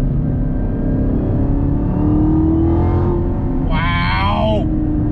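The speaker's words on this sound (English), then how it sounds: "On throttle, here we go, yeah!" A 2021 Chevrolet Camaro ZL1 1LE accelerates hard on throttle, its engine note loud and rising steadily for several seconds, and a whooping, whistling voice-like sweep cuts in near the end.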